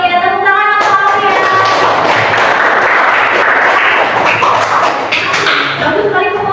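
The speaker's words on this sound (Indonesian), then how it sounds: "tepuk tangan untuk Aulia" A classroom of students applauds a classmate, giving steady, dense clapping that carries for several seconds, with a few voices audible at the start.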